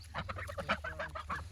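Geese honk repeatedly in a busy, overlapping flurry of nasal calls, moderately close but fairly quiet, with a low steady hum beneath.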